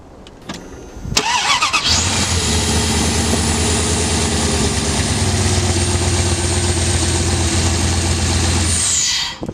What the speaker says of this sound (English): So as you just saw, my engine sounds nice and fine.